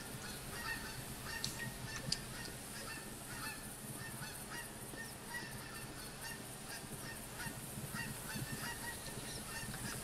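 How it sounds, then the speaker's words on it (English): A goose honks in the hunting video game The Hunter Classic, with repeated honking calls set in a busy, steady outdoor ambience. "Just the goose."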